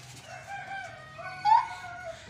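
A rooster crows among hens in a backyard chicken setup, a clear mid-length call rising and holding, heard fairly close with soft clucking and background noise.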